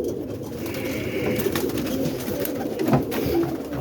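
Pigeons, a mix of hens and cocks, coo inside a bird coop for Boston ripping rollers, with repeated low throaty coos overlapping close by against a busy background of rustling and wingbeats.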